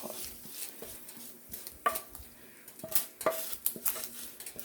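Cooked food being scraped out of a pan into a bowl, heard as a close series of metal utensil clinks and scrapes against cookware, uneven in rhythm with a few sharper knocks.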